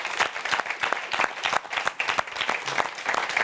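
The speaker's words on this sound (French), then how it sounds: "Je veux vous applaudir encore une fois." Audience at a Miss Corsica committee event applauds with irregular, fairly close clapping, individual hand claps audible in an uneven rhythm over several seconds.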